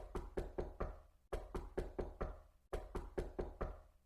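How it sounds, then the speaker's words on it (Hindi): Three rounds of firm knocking on a door in a cartoon, each a quick burst of about four raps, separated by brief pauses. "अचानक ही दरवाजा खटकने की आवाज सुनकर"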